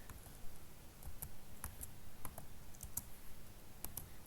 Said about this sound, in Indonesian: Jadi kita bisa ketik conf t.